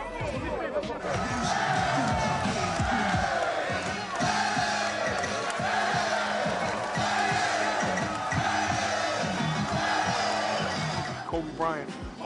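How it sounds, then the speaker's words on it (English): Large amped-up crowd yelling, cheering and screaming at a street basketball game featuring Kobe Bryant, a continuous roaring wall of voices with whoops and shouts throughout, basketball bounces faintly underneath. "They was yelling and screaming."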